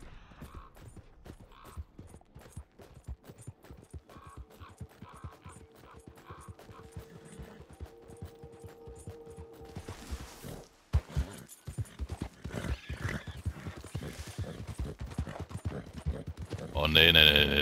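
Horse hooves clopping steadily while riding in Red Dead Redemption 2, a continuous close rhythmic gait growing louder toward the end, with someone talking over parts of it.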